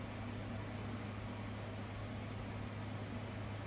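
An air conditioner runs indoors as a steady, even hum with a low drone, constant and unbroken throughout, fairly quiet and alone with no talk.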